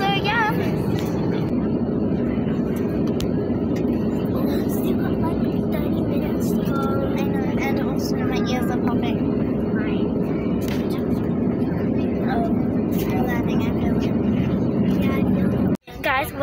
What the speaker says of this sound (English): Guys, we're landing right now.